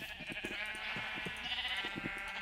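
Sheep in Minecraft bleat repeatedly in short, wavering calls over a steady ambient background, several bleats overlapping at moderate loudness with no talking.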